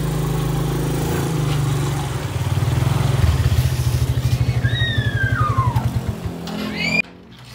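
A motorcycle engine idles and revs nearby with a rapid chugging pulse, then cuts off abruptly.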